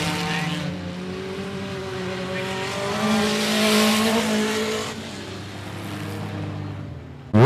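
Race cars at green flag racing at 105 Speedway: a pack of engines roars close by with rising and falling pitched harmonics as the cars accelerate and pass, loud and continuous.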